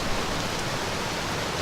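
Steady broadband rushing of river waterfalls and rapids below hills, a continuous even roar with no voices.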